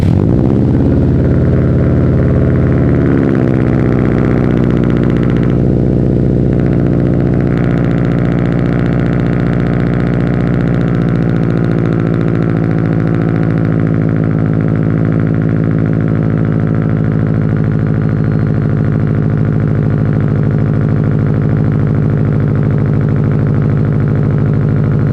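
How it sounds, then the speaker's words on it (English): A Subaru STI flat-four engine in World Rally Blue on a cold start, settling into a loud, steady, deep idle with the characteristic boxer rumble, held up close throughout with no voices. "I realized that I kind of snaked you guys out of a cold start yesterday"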